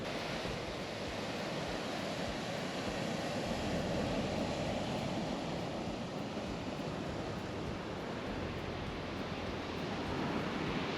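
Sea waves at Çilingoz Nature Park wash steadily onto the shore in a continuous broad roar, with wind buffeting the microphone and no voices.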